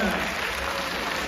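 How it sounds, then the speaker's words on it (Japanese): Brief burst of audience applause at an acoustic guitar singing concert, a dense, even wash of clapping filling the room. "拍手。"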